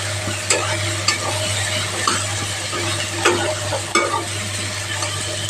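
Onion paste with chili powder fries in a pan for a Bengali egg curry, a constant sizzle broken by regular spatula scrapes and knocks, close and fairly loud with no voices.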